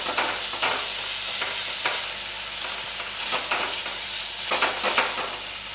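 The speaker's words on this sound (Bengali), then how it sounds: "গ্যাসটা বাড়িয়ে দেব, মিডিয়াম টু হাই ফ্লেমে কষাবো।" Potatoes sautéing and being stirred in a pan over a medium-high gas flame, a steady close sizzle broken by repeated scraping strokes of a spatula.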